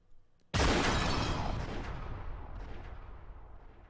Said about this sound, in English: The sound of gunfire rang out, and the world stopped.